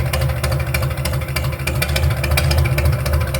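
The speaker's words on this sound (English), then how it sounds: "This tractor sounds pretty good sitting here idling," A Farmall M tractor with a 5-inch chrome straight-pipe stack idles steadily and loudly up close, a deep, throbbing rumble with even pulses and no talking over it.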